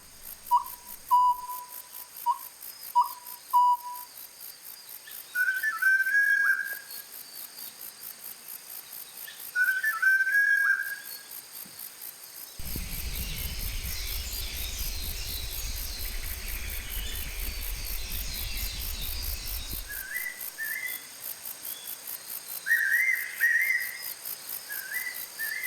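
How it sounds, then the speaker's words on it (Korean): Birds at a wetland in Wando Arboretum, Korea, give repeated clear whistled calls, some near and some farther off, over a steady insect-like buzz, with no talking. "소리로 완도 수목원의 새들을 만나보자."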